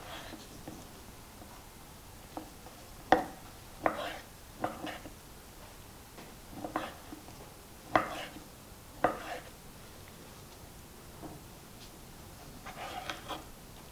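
Chicken breast being chopped into cubes with a knife on a board: a series of distinct, irregularly spaced thuds, fairly close, against a quiet kitchen background.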